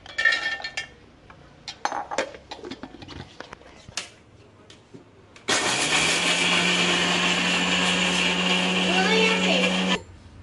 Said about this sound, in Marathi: आता आपण बिस्किट मिक्सरमध्ये आपण याचे बारीक करून घेणार आहोत, पावडर बनवून घेणार आहोत.